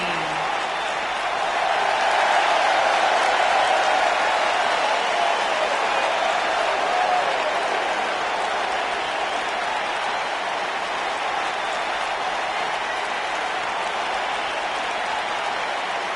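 Steady crowd roar and cheering in the WWE 2K19 wrestling video game at an NXT Takeover Toronto event, a continuous dense wash of noise that rises slightly early on and holds level throughout, with no commentary over it.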